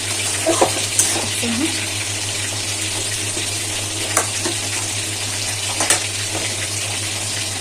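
Hot water poured into a simmering Assamese fish curry with cauliflower and kohlrabi, a steady close sizzling and watery rush with a few soft clinks, continuous throughout.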